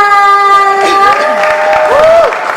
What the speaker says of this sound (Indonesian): minta tepuk tangannya yang spesial untuk Kanela.